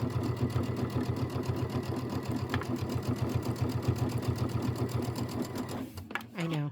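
A sewing machine stitches through quilt layers on a Christmas wall quilt project, running a fast, even mechanical rhythm up close for several seconds before stopping with a clunk near the end.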